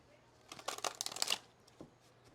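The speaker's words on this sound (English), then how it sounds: "when I cut the deck" A deck of playing cards is cut and riffled in one brisk burst of rapid fluttering clicks lasting under a second, close and fairly quiet, followed by a faint soft tap.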